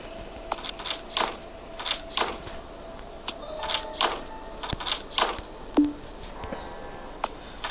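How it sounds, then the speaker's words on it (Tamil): Metallic jingling and clinking in a ghost-themed video game, a series of short bright chiming bursts repeating every second or so at moderate level over a quiet background. "சல்லு சல்லு சத்தம் கேட்குது."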